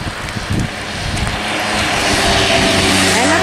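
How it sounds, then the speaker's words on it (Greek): A motorcycle approaches and passes by on a street, its engine rising from a faint rumble into a louder, steady drone by the end, with a brief voice at the start. "Να, ορίστε ένα μηχανάκι."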